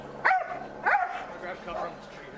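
A police K-9 dog barks repeatedly outdoors during an LAPD arrest, with three loud, sharp barks spaced evenly under noisy background and voices.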